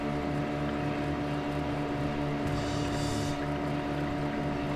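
A motorboat engine drones steadily at close range, a continuous low rumble with a brief burst of rushing water partway through.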